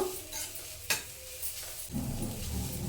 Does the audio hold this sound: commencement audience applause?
no